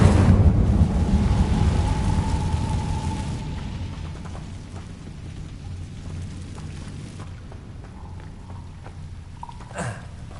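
The Incendio fire spell cast in Hogwarts Legacy bursts out as a loud, deep roaring whoosh that slowly dies down into a low crackling rumble, with a faint sharp flick near the end.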